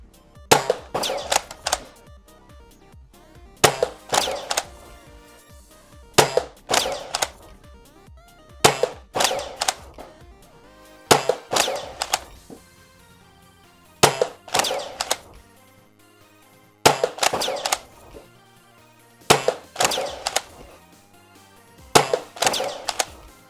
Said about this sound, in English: 10 shots out of the Pathfinder with the new rival rounds, and then 10 shots with the original.